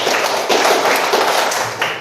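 A roomful of standing students claps in unison through a counted sequence, with distinct group claps landing in a brisk regular rhythm.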